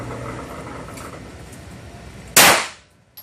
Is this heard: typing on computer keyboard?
no